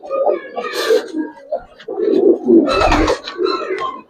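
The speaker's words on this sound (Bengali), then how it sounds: "যারা চান যে একটা কবুতর থাকুক আপনার বাড়িতে, যে সব সময় ডাকাডাকি করবে" Giribaz pigeons, a pair in a loft, cooing in low throaty bursts close by, with a voice talking over and between the calls.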